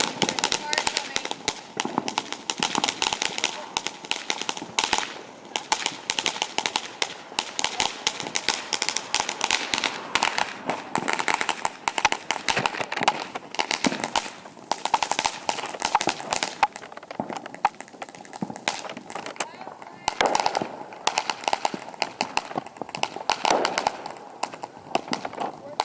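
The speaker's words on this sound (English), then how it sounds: "today is July 4th, and this is our fireworks." Firecrackers and fireworks go off on July 4th in a long, dense crackling barrage of rapid, sharp pops. The bursts are loud and close and continue almost without a break.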